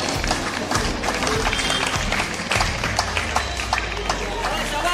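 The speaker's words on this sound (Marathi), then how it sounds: "सर्वांनी रश्मीसाठी टाळ्या वाजव्या" An audience claps for a prize winner at a village women's contest. The applause is dense and steady, with crowd murmur and speech mixed in.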